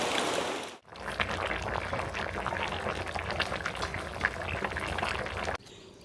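Papaya pieces boiling in a pot for papaya pradhaman, a continuous bubbling, churning wash of liquid heard up close, briefly dipping near the start and softening at the end, without speech.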